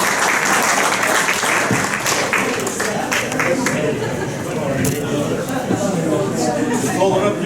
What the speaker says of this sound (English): Everyone will please give a round of applause for the legendary Jerry Day